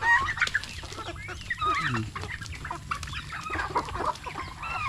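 Pet chickens around three months old cluck and chatter steadily close by, with overlapping calls and occasional sharper squawks from several birds across the whole stretch.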